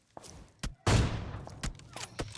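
Gunfire from an M416 assault rifle in a battle royale video game: a few sharp shots, then one loud, close blast with a long ringing tail, followed by scattered fainter reports.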